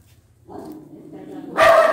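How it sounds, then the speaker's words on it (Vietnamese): A mother dog, a yellow-coated female, gives a short vocal sound after a brief quiet start, then a louder, harsher bark-like burst near the end, close and fairly loud. "Chó mẹ đó các bạn."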